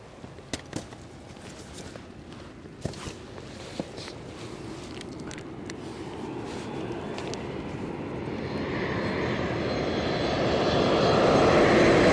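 An airplane's engine roar grows steadily louder as it approaches to land on the runway at Newcastle airport, starting distant and swelling to a close rumble, with a few scattered clicks early on.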